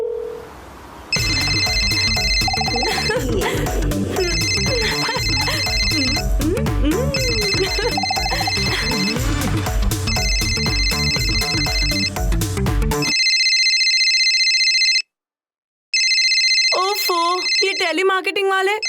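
A mobile phone ringtone repeats in regular bursts, loud and close, over background music and some voices. It stops briefly, then a final ring sounds before the call connects.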